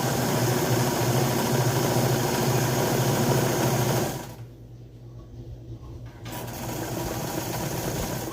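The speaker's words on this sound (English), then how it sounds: "this one I'm gonna quilt on this machine" A domestic sewing machine quilting fabric runs in a steady, close mechanical whir, cutting out briefly for about two seconds midway before starting up again.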